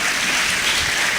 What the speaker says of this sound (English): Could you please clap for them?